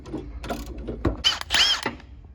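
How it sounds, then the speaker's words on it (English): A ratcheting spring compressor tightens down the coil springs on a right-hand-drive Jeep Cherokee, giving quiet, close bursts of quick mechanical clicking with short pauses between them. "by having your lovely assistant Garrett compressing the springs because we don't feel like dropping the axle out anymore"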